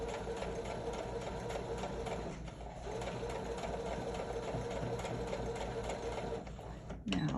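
A sewing machine with a zipper foot stitches fabric in a steady, rapid mechanical whir that runs almost the whole time. It breaks off briefly near the end, and someone talks over it.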